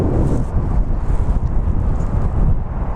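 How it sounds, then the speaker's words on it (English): Heavy wind buffets and roars across the microphone in continuous gusts, loud and close, with no voices heard. "it's extremely windy"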